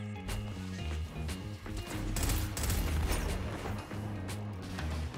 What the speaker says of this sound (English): Can I get a two-piece with a fusion rifle right now?